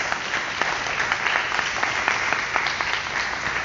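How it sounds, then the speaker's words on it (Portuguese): A church congregation applauds after a Scripture reading, a steady mid-distance patter of many hands clapping with sharper individual claps standing out. "pode aplaudir a poderosa palavra de Deus"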